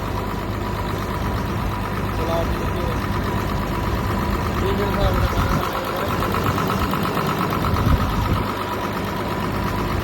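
A steady farm machine engine idles with a constant low rumble and hum throughout during engine cleaning, while someone speaks briefly over the noise.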